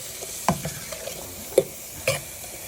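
Peppers cooking in a pan for Cajun pasta, a soft sizzle running throughout, broken by three brief clunks of a utensil stirring against the pan.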